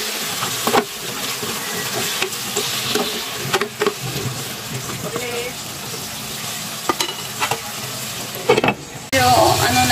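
Squash and other vegetables for Filipino pinakbet frying in a pan, a steady loud sizzle with scraping stirs and occasional clacks of the utensil against the pan, ending in a louder burst of sizzling.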